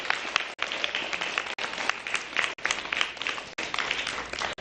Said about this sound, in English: a big round of applause for Ms.